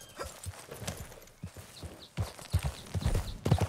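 An Arabian horse in Red Dead Redemption 2 trotting with steady, fairly close clip-clop hoofbeats that grow louder and denser toward the end.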